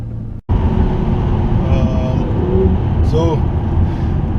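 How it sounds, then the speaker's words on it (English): A McLaren 650S is driven on a rain-soaked Grand Prix circuit at the Nürburgring, with a loud, constant engine drone and wet road roar heard from a mounted camera inside the car, broken briefly by a short gap near the start. "My first lap ever GP track in the McLaren 650S"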